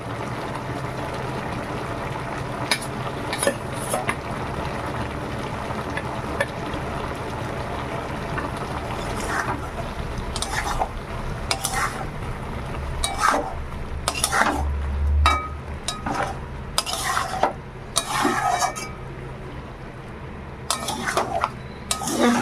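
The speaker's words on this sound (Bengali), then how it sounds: "এবার আমি মাছগুলো দিয়ে দেবো" Fish being added to a pot of jackfruit and jackfruit-seed curry, then stirred. Metal utensils scrape and clink against the pot in repeated bursts at close range, with a faint sizzle underneath and no speech.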